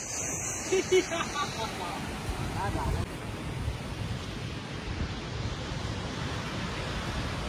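Surf rolls onto Udaipur beach near Digha as a constant broad wash of wave noise, with wind buffeting the microphone and brief distant voices near the start.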